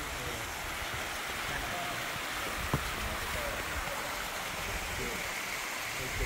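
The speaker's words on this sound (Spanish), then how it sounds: "Ahí está la cascada." A river waterfall on a motorcycle route to Florián, Santander, rushes as a steady, broad roar of falling water, with a faint brief tick partway through and no voices.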